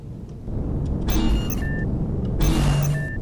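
Low mechanical rumble with two whooshing, hissing bursts and thin whistling tones as a spaceship undocks and moves off in the game Empyrion – Galactic Survival.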